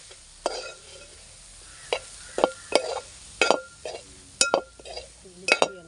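Turmeric and coriander powder get stirred in a pan for chicken mappas, a faint sizzle under a series of separate sharp clinks and scrapes of a spoon on metal, close, with no talk.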